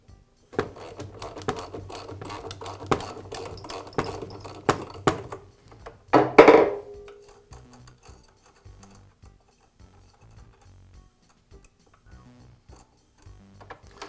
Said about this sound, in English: I use a socket wrench to remove the nut